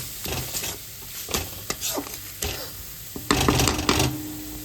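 Masala with green chilies sautés in hot oil in a pan, a steady sizzle broken by repeated scraping and stirring of a spatula against the pan, growing louder and busier toward the end.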